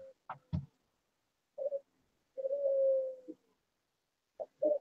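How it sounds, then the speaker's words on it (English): Pet doves cooing in short, soft, hollow phrases with gaps between, one longer drawn-out coo in the middle, fairly close and alone against a quiet background. "it's Dave's doves. The pigeon, yeah"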